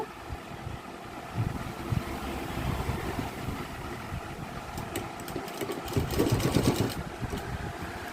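Sewing machine stitching a narrow border on fabric, a low steady motor hum with rapid needle clatter that swells toward the end, close and continuous with no talk.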